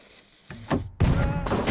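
A cannon fires a plank and cheese in the Henry Stickmin game: two deep thumping booms in quick succession, the second louder and followed by a short rumbling tail, with no talk over them.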